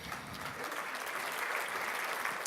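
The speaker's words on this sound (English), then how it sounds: "A big round of applause." Audience applauding steadily at an academic panel on plastic pollution in the ocean, a dense even wash of clapping with no voices.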